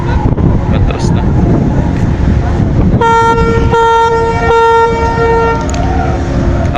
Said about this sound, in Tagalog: Ang busina niya.